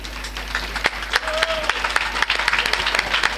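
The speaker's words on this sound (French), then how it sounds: "vous voyez comment vous acclamez." A crowd claps and cheers loudly and continuously, with scattered sharp claps standing out against the dense applause.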